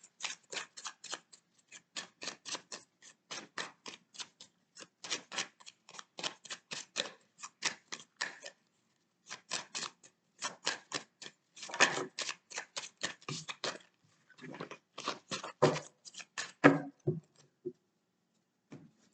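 Tarot cards are shuffled for a reading in quick, crisp bursts of papery clicks, repeated rhythmically with brief pauses, close and fairly quiet with no talking.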